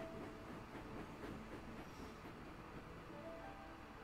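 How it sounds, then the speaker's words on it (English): Train hauling stone wagons on rails in an animated show, a steady rumble with faint clicking and a brief wheel squeal near the end, continuous and moderately close without talk. "The next day, Luke had to take a train of stone to Alfsted Castle."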